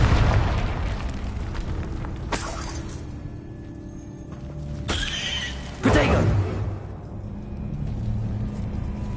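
Confringo blasting spell in Hogwarts Legacy, several sharp explosive bursts and crackling impacts over a low combat rumble, with one heavier boom late on and a voice shouting among the blasts.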